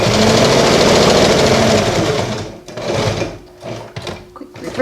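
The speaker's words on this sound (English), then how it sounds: "I want a really long stitch." A sewing machine runs fast and close while stitching pajama pants, a dense continuous whir that stops about halfway through, followed by quieter handling clicks and taps.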